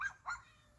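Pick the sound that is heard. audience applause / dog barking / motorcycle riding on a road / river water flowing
dog barking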